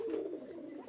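A pigeon on a pigeon farm gives one short, close, soft coo, a low throaty murmur lasting under a second.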